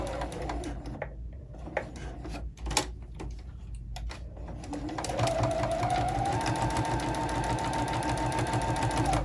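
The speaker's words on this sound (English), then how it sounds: "you can go ahead and do a backstitch over across it" Sewing machine backstitching across fabric face mask pleats, a fast close mechanical ticking that starts in short bursts, then runs into a steady humming stitch.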